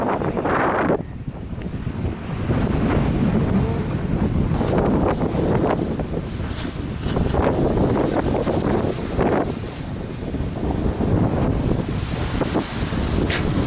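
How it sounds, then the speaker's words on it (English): Strong wind blowing by the ocean on a windy beach, with gusty roaring bursts buffeting the microphone continuously and the sea faint underneath. "It's windy!"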